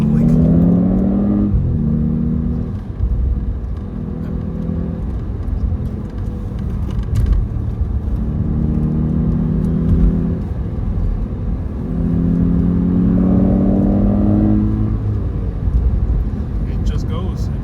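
An Audi S8 Plus luxury sedan drives on Virginia roads, its engine note rising hard through several gear changes under steady road and tyre roar, loud and close from inside the cabin.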